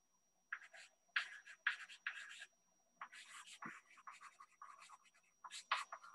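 A pen or marker scratches across a surface while a diagram is drawn, in quick short strokes and bursts with brief pauses, close and fairly quiet.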